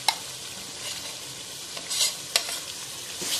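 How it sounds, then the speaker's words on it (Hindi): Spices frying in a pot for haleem, a steady low sizzle with a few sharp scraping stir strokes near the end, close and fairly quiet with no talk. "अब हम सब मसालों को भून लेंगे।"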